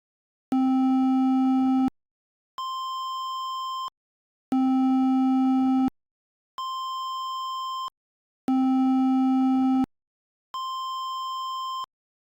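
Two electronic buzzers take turns in a steady pattern, a harsh low buzz alternating with a thinner, higher steady tone, each lasting about a second and a half, three cycles in all, clear and loud with short silent gaps.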